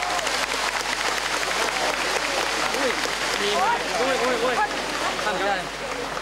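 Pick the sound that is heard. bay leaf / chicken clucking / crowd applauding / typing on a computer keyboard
crowd applauding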